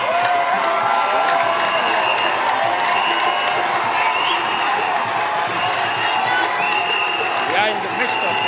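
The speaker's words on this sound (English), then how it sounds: "Everybody is now to their feet, greeting the leader of the party, Babakari Tombonjata" A party congress crowd rises to its feet, cheering and applauding the party leader, a dense, steady roar of voices and clapping that fills the whole stretch, with occasional whoops rising above it.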